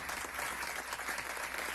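Sustained applause from a crowd at a memorial ceremony honouring the dead and missing, dense and steady clapping throughout, fairly loud with no talking.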